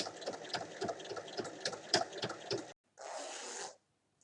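A sewing machine runs a quick, rhythmic stitch for nearly three seconds as it closes the opening in a pouch lining. After a brief pause comes a shorter, smoother burst of stitching, and no one speaks.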